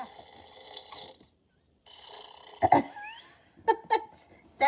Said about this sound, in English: That's the dog snoring.